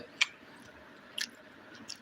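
Quiet, close chewing of rice mixed with mackerel curry, a few soft wet smacks and squishes spread over a couple of seconds.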